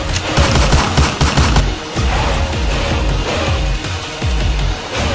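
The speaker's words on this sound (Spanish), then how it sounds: "Disparos." Dense bursts of rapid automatic gunfire crackle almost continuously, loud and close, with overlapping shots forming a sustained fusillade amid the chaos of a zombie apocalypse.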